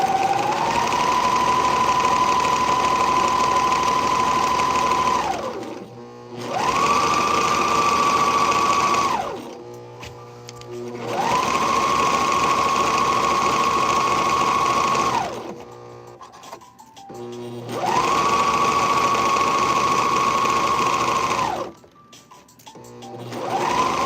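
A sewing machine stitching garment sleeves together runs in three long steady bursts separated by brief pauses, loud and close with a high whirring drone and no talking.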